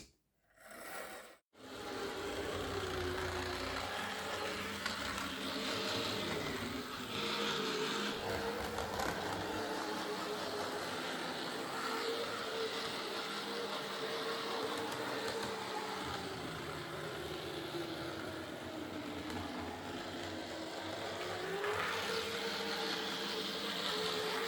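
An old Triang model train locomotive runs on modern track, a steady whirring, rumbling motor drone with slight stumbling unevenness that continues for over twenty seconds after a brief start.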